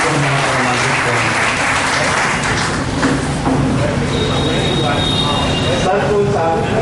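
Loud, sustained applause from the audience at a national conference on prisoners' rights, honouring a judge, with broad, dense clapping and some crowd noise filling the space throughout.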